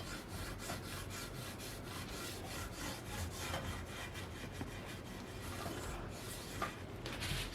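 An eraser is rubbed back and forth along guitar frets, giving a quiet, close, rhythmic scrubbing of steady strokes that runs throughout without any talking.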